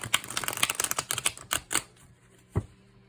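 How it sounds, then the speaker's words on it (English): Tarot Villeneuve French deck cards riffled and shuffled by hand, a rapid run of crisp papery flutters for about two seconds, then a single soft tap as the deck settles, close and alone. "Let's see how these cards shuffle."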